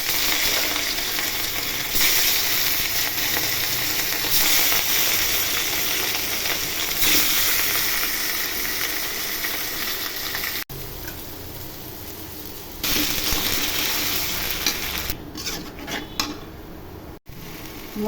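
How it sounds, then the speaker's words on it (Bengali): Spices frying in oil for a katla fish curry with potato and greens, giving a loud, continuous, hissing sizzle with occasional stirring scrapes and pan clinks, dipping briefly at moments. "মশলা ভাজা ভাজা হয়ে গেছে"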